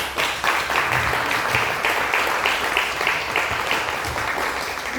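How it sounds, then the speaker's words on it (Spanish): Sustained applause from a church congregation at a pastors' gathering in Tamazunchale, Mexico, a dense steady wash of many hands clapping for the full five seconds with no talk over it. "Den un aplauso a Cristo."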